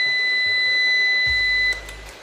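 A steady, piercing electronic power-on alarm beep from a Numeric Digital 600 EX-V UPS sounds continuously for almost two seconds, then cuts off, leaving a low hum behind.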